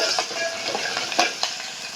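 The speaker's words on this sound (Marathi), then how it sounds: "छान तडका येतोय फोडणीचा" Green chillies, garlic and curry leaves sizzle in hot oil for a dal tempering, a close crackling hiss with small pops and a few sharper clinks of stirring.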